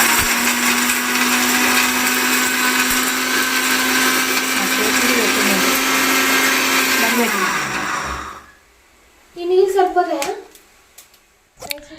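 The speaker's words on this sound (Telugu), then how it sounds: "ఇంకా ఫ్రై చేసి మిక్సీ పట్టా అనమాట." A kitchen mixer grinder runs loud and steady for about eight seconds while grinding fried whole spices: coriander seeds, cinnamon, cloves, mace and bay leaf. The motor then winds down and stops, and brief speech follows.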